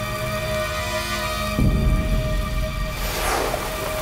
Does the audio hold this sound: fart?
no